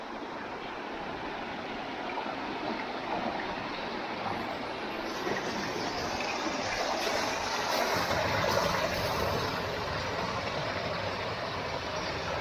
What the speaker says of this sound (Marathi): ह्या बीचच्याच जवळ आणखीन एक वॉटरफॉल आहे. तो वॉटरफॉल आता आपण पाहूया.